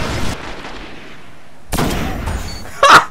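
Shotgun fire in Destiny's Crucible, a couple of sharp close blasts separated by a short pause, the second followed by a quick burst of further shots.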